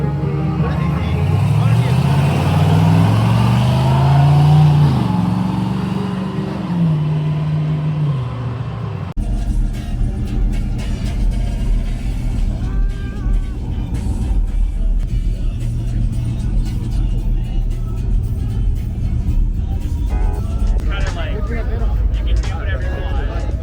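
A loud modified car engine revs hard at a Caffeine & Octane car show, roaring with rising pitch for several seconds before giving way to crowd chatter and voices talking nearby.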